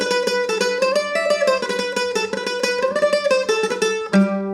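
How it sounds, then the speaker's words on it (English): Irish Celtic-style mandolin picks a quick, bright melody of rapid plucked notes with a thin, ringing tone, played alone and close, ending on a sustained chord. "So that's the sound of Irish mandolin, or Celtic kind of style mandolin."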